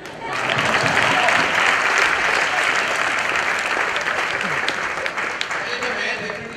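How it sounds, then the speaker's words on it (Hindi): A studio audience at a Hindi television talent show bursts into loud applause that swells quickly and stays strong, then tapers slightly toward the end, with a few faint voices mixed in. "तालियां।"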